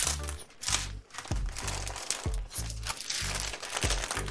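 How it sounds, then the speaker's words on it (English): Plastic packaging around a Yunzii X75 Pro transparent mechanical keyboard crinkles and rustles loudly as it is unwrapped, in close, repeated bursts with low thumps from handling. "Let's open this package."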